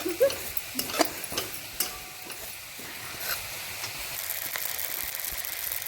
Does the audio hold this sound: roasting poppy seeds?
yes